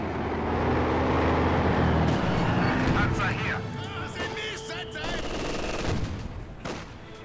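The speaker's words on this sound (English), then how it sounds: "And the LMGs are going ahead and hit this 6-pounder." Rapid light machine gun bursts in a Company of Heroes 2 battle, dense and loud over rumbling engines and explosions, with a commentator talking throughout.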